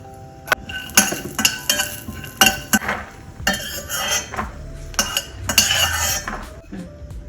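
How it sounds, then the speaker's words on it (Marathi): Peanuts roasting in a quarter spoon of oil in a pan for a curry-leaf chutney, with repeated metallic clinks and scrapes of a spoon against the pan in an irregular rhythm, close and fairly loud. "परत पाव चमचा तेल टाकायचं आहे आणि त्याच्यामध्ये शेंगदाणे भाजून घ्यायचे"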